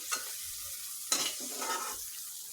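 Fish deep-fried until very crisp are lifted out of hot oil in a pan: two quick spatula scrapes over a faint sizzle, close and quiet.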